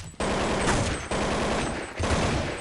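Rapid bursts of gunfire in Counter-Strike 1.6, loud continuous automatic shots in three sustained volleys separated by brief gaps.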